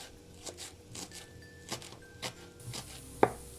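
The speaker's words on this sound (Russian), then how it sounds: "буду нарезать петрушку и лук" Parsley and onion being chopped with a knife on a board, a few sparse soft knocks spread out over several seconds, quiet and close, with one sharper knock near the end.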